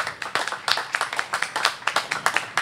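A small gathering of volunteers claps for a couple of seconds, giving quick, uneven hand claps at moderate distance, fairly sparse rather than a full roar.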